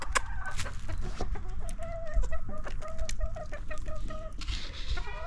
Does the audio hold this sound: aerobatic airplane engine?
no